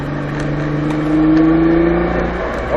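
Nissan GT-R engine in a racing video game holding a steady, droning rev, its pitch rising slightly through the middle and easing near the end, loud and continuous with no talk.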